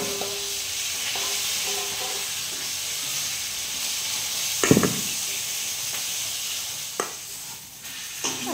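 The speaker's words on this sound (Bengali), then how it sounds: "এবার এটাকে গরম জল দিয়ে মিশানো হবে গরম জল নিয়ে নিয়েছি অল্প অল্প করে গুঁড়ির মধ্যে দেব আর মেশাতে থাকবো" Rice flour being mixed with hot water into batter for sajer or chitoi pitha, giving a steady soft hissing, stirring wash with a few sharper scrapes near the middle and end, and no voices.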